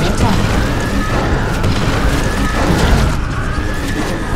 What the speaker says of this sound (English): Warning. Seismic disturbance detected. Nidus worm inbound.